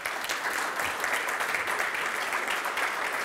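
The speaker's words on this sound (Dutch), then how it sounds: "een groot applaus voor politiek duider van de NOS, Xander van der Wulp." Studio audience applause on a Dutch political television show, steady dense clapping from a crowd that fills the room evenly throughout, with no pauses.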